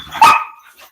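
A dog lets out one loud, sharp bark up close, trailing off into a softer yip a moment later.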